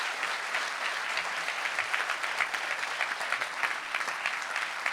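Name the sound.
audience applause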